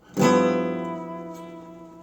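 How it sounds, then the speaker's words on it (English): A single plucked electric guitar note rings out with a steady, wavering vibrato, sustaining and slowly fading over two seconds. "Just a strict vibrato would sound like this."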